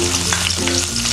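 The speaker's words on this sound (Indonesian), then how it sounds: "Ini kita tumis sampai wangi ya." Garlic and shallots sauté in hot oil in a wok, a steady close sizzle with a few stirring scrapes, no talking.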